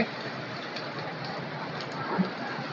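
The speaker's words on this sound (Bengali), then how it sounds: "অনেক অনেক বৃষ্টি অনেক বৃষ্টি" Heavy rain falling steadily on a village road, a dense, continuous hiss of drops that stays even and close throughout with no voices.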